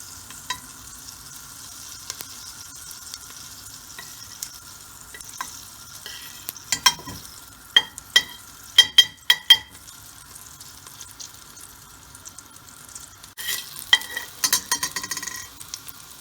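Garlic fries in butter in a pan for chicken pesto pasta. A faint, close sizzle runs under scattered sharp scrapes and taps as it is stirred, with a busier patch of stirring near the end.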